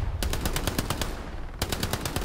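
Rapid bursts of gunfire rattle around the player in the World War II shooter Hell Let Loose, two loud volleys of sharp, evenly spaced automatic shots separated by a brief lull.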